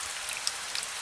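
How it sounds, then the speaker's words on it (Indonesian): Rain falling steadily around a old tree in a quiet bedtime-story scene, a soft, even hiss with a few faint droplet ticks scattered through a brief moment, no voices. "Mereka duduk sambil mendengarkan suara hujan."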